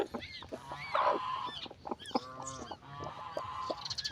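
A goose on a small farm honks repeatedly in short, nasal calls, close and fairly loud, with a few brief bursts and no talk over them.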